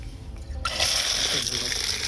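Water rushes and splashes over freshly cut mustard greens being washed, starting abruptly after a short quieter moment and continuing as a steady nearby gush, with some speech underneath.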